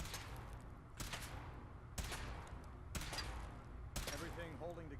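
A weapon fires during a suit test in Fallout 4, giving four sharp, loud blasts about a second apart over a low rumble, followed by a trailing whine after the last shot.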